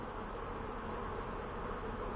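Honeybees hum around small three- to four-frame hives in the mountains of Krasnodar Krai, a dense, steady, close buzz with no voices.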